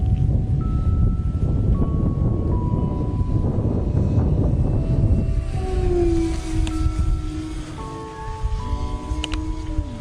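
A Horizon Hobby sport prop model airplane flies into a headwind, its propeller giving a thin whine that rises and falls over steady, loud wind buffeting.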